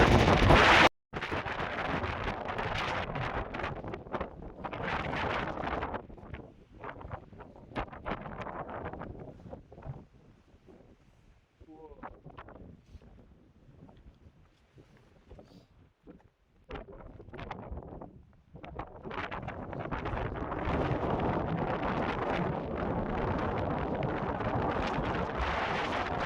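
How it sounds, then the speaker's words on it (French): Strong, gusty wind on a mountain summit on the GR20 trail buffets loudly and continuously, roaring in waves with a calmer lull in the middle before building back up. "Il y a du vent qui souffle malade."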